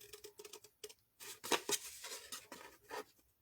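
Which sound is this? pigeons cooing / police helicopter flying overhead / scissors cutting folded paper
scissors cutting folded paper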